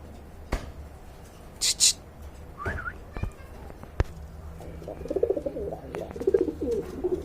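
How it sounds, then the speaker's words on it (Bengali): Lahori and Sirazi pigeons coo in soft, repeated bursts near the end, with scattered clicks and handling noises and people talking nearby at a pigeon sale. "চমৎকার এক জোড়া কবুতর দেখতে পাচ্ছেন"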